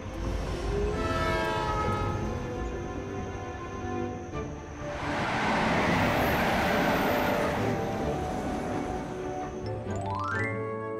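A cartoon express train rumbles steadily along, its horn blaring in long sustained blasts over the running noise, loud and close.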